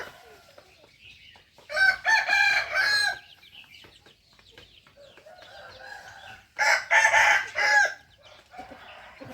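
Fighting roosters being exercised crow loudly and close in two long drawn-out calls, with softer clucking from chickens filling the gaps between them.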